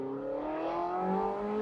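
Porsche 918 Weissach hypercar exhaust note, heard roof-off on a mountain pass, a steady loud engine drone with rising harmonic tones as the revs climb smoothly throughout.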